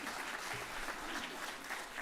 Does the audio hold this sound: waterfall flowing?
no